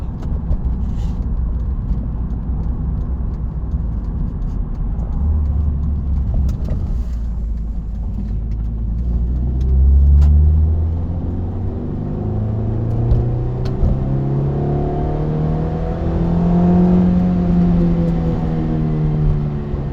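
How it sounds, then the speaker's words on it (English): A car engine revs repeatedly, its pitch climbing and falling in smooth sweeps over a steady low rumble, loud and close throughout. "It's an engine that does like to rev. It really, really likes to rev."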